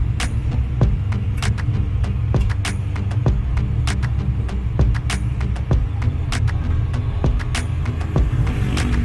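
A Suzuki Multicab with an F6A engine labours up a long uphill road, a steady low throbbing drone heard from inside the cab, with sharp rattling clicks and knocks repeating throughout.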